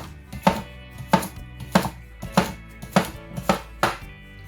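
A knife chops a cucumber on a cutting board: seven steady, evenly spaced thuds, close and distinct, with no talking.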